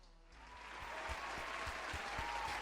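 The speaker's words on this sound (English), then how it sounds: "I need some round of applause for that one" Studio applause sound effect dropped into Gorilla Tag commentary: a crowd clapping that swells in after a brief quiet start and holds steady and full, with no talking over it.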